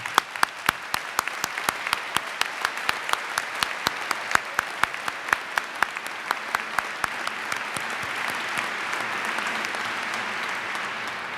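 Applause from the audience at a state education address, a steady run of distinct claps that stays fairly even and moderately loud, thickening slightly toward the end, with no talk over it.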